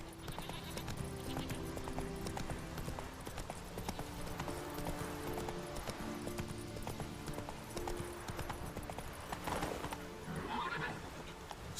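Roach the horse gallops in The Witcher 3: Wild Hunt, with steady rapid hoofbeats, close and loud, running throughout. A whinny rises near the end over the galloping rhythm.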